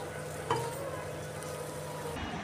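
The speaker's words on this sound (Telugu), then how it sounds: "ఇలాగా బాగా ఒక 2-3 నిమిషాలు బాగా మిక్స్ చేసుకొని మాడిపోకుండా కలుపుతూ" Gongura pickle is stirred in a pan as it fries, with a continuous low sizzle and soft scraping of the spoon, plus a single sharper clink near the start.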